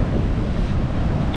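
Ocean surf rolls at Ujung Genteng beach, a loud, constant broadband rush mixed with heavy wind buffeting the microphone, cutting off abruptly at the end.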